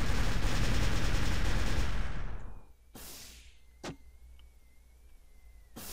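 A mech in the game Machinecraft fires its machine guns in a dense, rapid burst that lasts a couple of seconds, then cuts off, followed by a few sharp single bangs over a faint whine.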